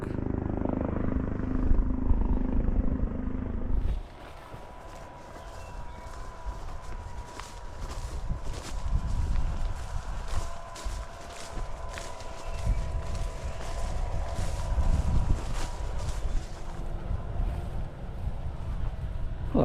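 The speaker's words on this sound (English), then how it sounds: "there's unfortunately a helicopter who's buzzing around here" A steady mechanical drone hums through the whole stretch, with footsteps crunching along close by on a walk through West Dorset holloways; a helicopter's rotor-like buzz lingers in the distance.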